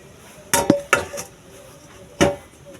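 A metal lid is set onto a cooking pot of mustard egg curry in a village kitchen, giving a quick pair of clanks followed by a second pair and then one more clatter a moment later, close and clear with no talking.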